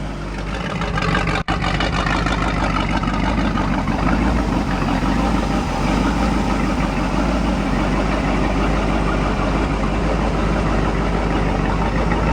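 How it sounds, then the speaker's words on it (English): A race boat engine idles at about 700 to 750 RPM with a deep, steady rumble, close and constant throughout, with one brief click near the start. "We're idling about, I don't know, about 700 RPMs, maybe 750."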